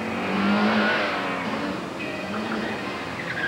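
A small Lotus 7 sports car runs an autoslalom course at a 1987 Canadian invitational, its engine droning steadily at moderate distance, rising and falling slightly with a faint whine over broad road noise.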